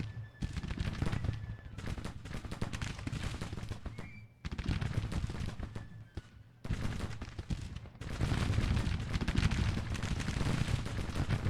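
Civil War battle gunfire in Grand Tactician at Bull Run: dense, continuous crackling musketry and volleys with heavy artillery booms, rolling without pause apart from a few brief dips, loud and sustained.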